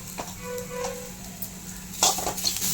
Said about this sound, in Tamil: வெங்காயமும் கோஸு எல்லாம் போட்டு கிளறியாச்சு